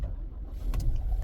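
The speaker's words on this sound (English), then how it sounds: "So let's just put on the car." A car is switched on: a short, low rumble of the engine or motor starting, with faint clicks on top, close by and quiet, with no voices.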